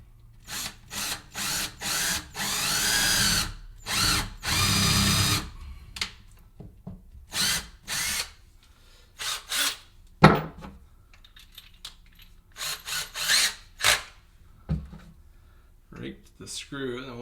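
A power drill bores into wood while building a closet for motorcycle gear, giving several whining bursts of varying length, one long run near the start and shorter ones later, separated by pauses with quiet handling clatter.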